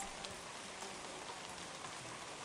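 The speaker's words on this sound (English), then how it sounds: "Light rain was falling, which only added to the immense beauty of this place." Light rain falls steadily over the jungle at the Maya ruins of Tikal, Guatemala, a constant soft hiss of drops with no pauses or voices.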